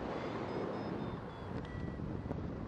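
Gusty wind buffets the microphone of a light aircraft in flight, a low continuous rumbling roar with uneven surges, moderately loud and with no talking.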